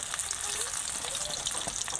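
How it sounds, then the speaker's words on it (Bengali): Battered eggplant slices (begun bhaja) fry in hot oil with a constant close hiss and fine crackling bubbles that stays even throughout. "দেখতে দেখতে আমার বেগুনি ভাজা হয়ে গেছে।"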